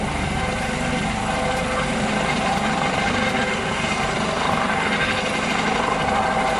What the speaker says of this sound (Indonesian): lihat teman, ada helikopter